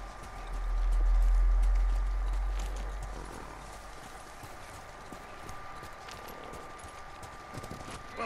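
Hooves of a galloping horse in the video game Ghost of Tsushima, a rapid muffled rumble that swells loud for a few seconds and then fades into quieter ambient game sound and a steady tone.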